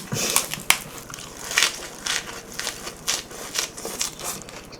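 Salted jokbal pig's trotter skin being chewed close up, a string of crisp crackly bites and squishy crunches in an irregular rhythm, fairly quiet with no talking.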